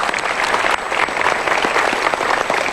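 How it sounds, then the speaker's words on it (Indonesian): A studio audience at a motivational talk show applauds loudly and continuously, dense clapping with a few sharper claps standing out, no one talking over it. "kita berikan tepuk tangan sekali lagi"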